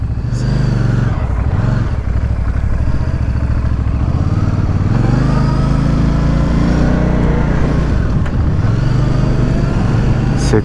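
A Benda Chinchilla 500 motorcycle engine runs steadily and close, its low, throbbing drone rising and falling slightly with throttle, continuous throughout with faint mechanical clatter.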